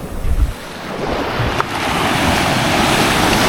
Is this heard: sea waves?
yes